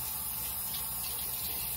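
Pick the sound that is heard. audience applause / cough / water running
water running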